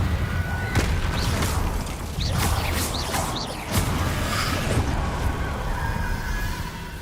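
A Confringo fire spell goes off in the Hogwarts Legacy video game, a loud booming blast with rumbling, whooshing game effects and several sharp pops and crackles layered over a dense, continuous din.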